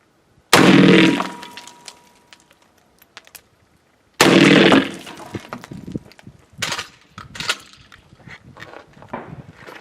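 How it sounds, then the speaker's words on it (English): A DP12 shotgun firing an exploding round into a cinder block outdoors: two sharp, loud blasts a few seconds apart, the second trailed by crackling bursts and scattered debris pops. "Left side, exploding round, cinder block."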